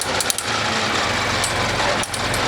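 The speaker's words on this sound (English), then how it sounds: "There's a little bit of metal hitting. It's like they're out of time or something." A hay mower runs at close range with a dense mechanical clatter and a steady engine drone, its metal parts knocking out of time in quick irregular ticks.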